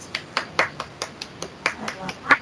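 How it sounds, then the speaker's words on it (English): Sparse, scattered handclaps from a small group at an online webinar welcoming a speaker, about a dozen light claps spread across the moment, fairly faint and thin. "Let's give her a round of applause."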